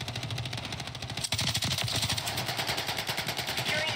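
Rapid, sustained light machine gun fire from Call of Duty: Modern Warfare 3, sounding as dense, continuous bursts that run loud through the whole stretch with only a brief break.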